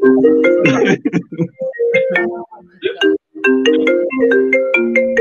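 A phone ringtone plays loudly as a melodic electronic tune of repeating tones, briefly dropping out before resuming, with no voice over it.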